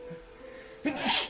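One quick, sharp human sneeze bursts out at the end after a brief quiet intake of breath, close and clear against a faint background hum.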